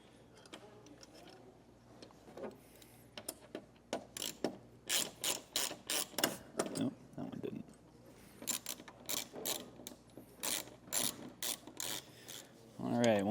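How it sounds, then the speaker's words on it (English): Button head screws being driven with a 5mm hex key while mounting a Westin EXP truck topper on a 2025 Ford Maverick: a close, quick series of sharp ratcheting clicks in bursts, with short pauses between them. "we'll put in our button head screws using our 5mm hex key"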